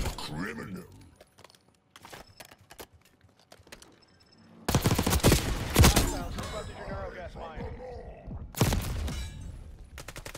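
Gunfire from a weapon in the Black Ops 6 beta: scattered clicks and faint mechanical handling sounds give way to loud, close bursts of shots in the second half, with some background game noise.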